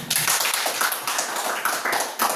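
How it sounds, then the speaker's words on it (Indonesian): Pupils in a classroom clap their hands together in a dense, lively burst of applause that stays close and fairly loud throughout. "Iya, pintar, tepuk tangan."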